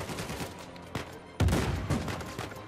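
Gunfire during a firefight in Uncharted 4, a few sharp, punchy shots and bursts over a busy background, one louder close blast midway.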